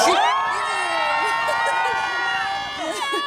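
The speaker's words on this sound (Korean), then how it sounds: "여러분 박수 한번 부탁드릴게요" A large crowd of fans at an IU interview event on a Chamisul-themed stage claps and cheers loudly, a bright sustained roar that holds through the whole moment.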